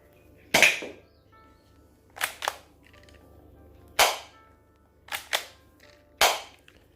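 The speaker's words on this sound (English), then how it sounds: "Alright guys, again, I'll show you some more shooting." An RXG18 Glock 18 gel blaster fires seven sharp, snappy shots, one alone, then in pairs and singles spaced about a second or more apart, each crack close and loud against a quiet outdoor background.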